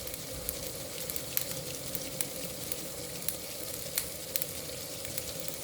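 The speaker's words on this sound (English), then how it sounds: "So the oil and the onion is frying, boiling, frying together" Onion frying in hot oil in a pan for fried rice gives a steady close sizzle with small crackles and pops scattered throughout, no talking.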